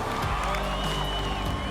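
A hometown crowd at a surf contest cheering and clapping steadily, a dense, continuous roar heard from a distance for under two seconds, with commentary under it.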